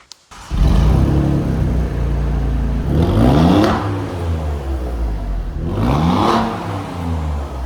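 The V6 engine of an Alfa Romeo Giulia QV starts up, then blips through two sharp revs that rise and fall back to a rumbling idle, close and loud.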